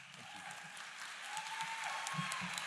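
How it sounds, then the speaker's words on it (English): Audience applauding at a university spring commencement ceremony, steady crowd clapping sustained for a few seconds with a faint tone running underneath. "that does deserve a round of applause"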